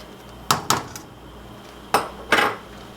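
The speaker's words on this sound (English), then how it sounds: "And then I'm just going to give this a stir." A spoon knocking against a metal pot while stirring salted pasta water, four sharp clinks in two quick pairs, close, over a quiet background hiss, no talking.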